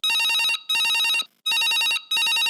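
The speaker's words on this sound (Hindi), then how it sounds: "कोनो के फोन आवत है" A telephone rings in a radio phone-in programme about dairy cattle breeding, two bursts of a bright electronic double ring separated by a short pause, loud and close with no talk over it.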